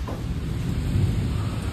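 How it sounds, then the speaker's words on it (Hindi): Thunder rumbles low and heavy over steady rain, a dense, continuous wash of sound with no voices. "अंजलि बारिश कम होगी अब तो, तू जा सकती है ऑफिस।"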